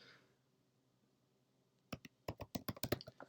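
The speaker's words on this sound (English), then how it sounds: "I'm sure you can hear me typing too." After a quiet stretch, a short burst of forceful computer keyboard typing, about eight crisp, close clicks in quick succession.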